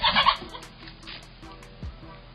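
A rooster lets out a loud, harsh crow at the start while confronting a bear, followed by quieter scuffling and rustling outdoors.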